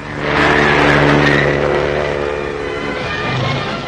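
A propeller-driven flying car, an automobile that also flies, on a test run along a highway near Rome: a loud, steady engine and propeller drone that holds through the whole stretch with no talk.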